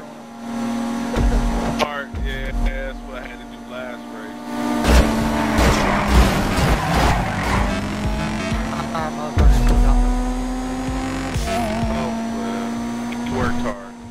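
Cars in a GTA Online race make a steady engine hum with brief thumps and tire noise, loud and sustained throughout, with a voice talking over it at times.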